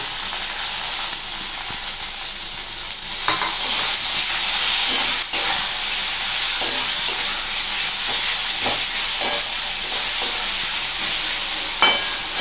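Chopped tomatoes hit hot oil in a pan of boal fish curry, and the steady frying hiss jumps louder into a dense, continuous sizzle with a few small pops and stirring clicks.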